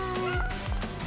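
A cat meows in short, rising-and-falling cries, two or three close calls over a soft background, with no clear talk.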